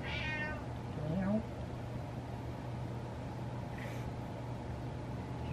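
A male cat meows once, close and fairly loud, against a low steady hum and faint background noise, followed by a quieter, fainter chirp a few seconds later.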